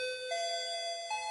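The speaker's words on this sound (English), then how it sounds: "a notification bell rang" A notification bell rings in an audio drama, a two-tone ding-dong chime with a bright sustained ring, clean and moderately quiet, with a second softer strike near the end.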